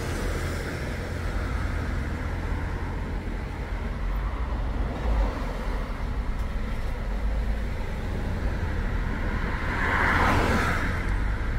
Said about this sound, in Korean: 저 지금 밖에 차 지나가는 소리 들리죠?